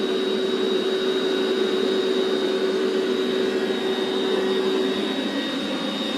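Built-in electric pump inflating an air mattress, a loud steady whirring hum with a constant whine, close and unbroken from start to end.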